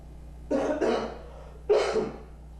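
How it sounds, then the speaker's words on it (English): Two or three short, throaty coughs close to the microphone, the first pair in quick succession and another after a short pause. "Are people allowed to cough into my microphone?"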